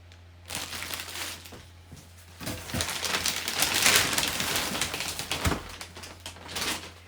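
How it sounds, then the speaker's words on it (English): A laser printer, a Brother HL-L5210DW, being pulled from its packaging: crinkling plastic bag, scraping cardboard and rustling bursts, close and irregular, with quieter pauses between handling noises. "let's just take a look and see what we think of it and get this out of the packaging"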